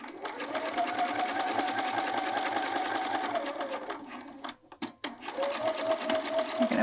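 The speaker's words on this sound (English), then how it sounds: "Pivot, stitch down, that one hits perfectly, and stitch back to where you started." A sewing machine stitching the box for a welt pocket runs in a loud, fast, steady whir for about four seconds, stops briefly for a pivot with a couple of clicks, then starts again.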